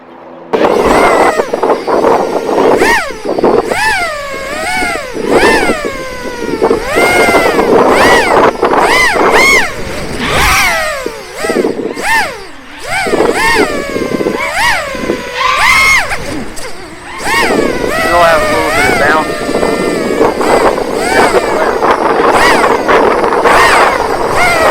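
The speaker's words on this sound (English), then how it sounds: "So we're going to fly it a little bit and check the motors." Motors of a Diatone Mamba F722 FPV drone whine loudly during a test flight, pitch repeatedly sweeping up and down with throttle bursts, over wind buffeting and some faint voices.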